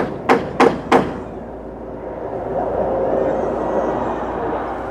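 Three sharp hammer blows land in quick succession while nails are driven into the roof edge of a house under construction, followed by a steady wash of outdoor background noise.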